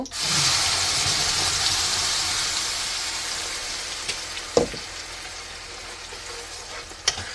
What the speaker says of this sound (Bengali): এখন তেলের মধ্যে পেস্টটা দিয়ে দিব